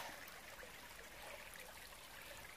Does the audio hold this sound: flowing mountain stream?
yes